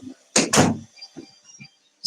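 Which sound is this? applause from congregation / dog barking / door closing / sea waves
door closing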